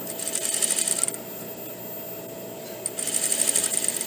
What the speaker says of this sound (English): And then I'm going to sew into this cup